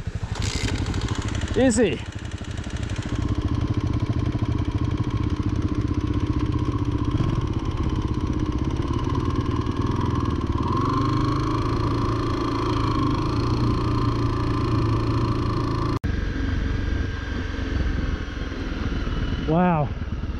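A motorcycle is kickstarted and catches, then runs with a steady clattering engine beat up close for a long stretch, rising briefly in revs, while people talk over it.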